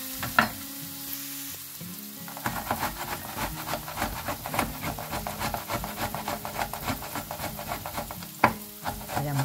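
Chopped onion and pepper fry in a pan, giving a steady, close sizzle with stirring scrapes and crackles running throughout.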